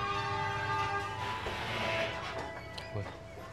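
An Indonesian economy train, the Sritanjung, sounds a sustained horn tone as it prepares to depart, loud and steady, then fades into station rumble with faint background noise.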